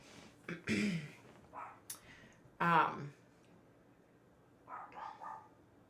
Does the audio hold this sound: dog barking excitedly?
yes